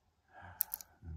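Faint, quick metallic clicks from picking pins in a Nemef NF2 lock, three or four sharp ticks close together, with soft handling noise around them.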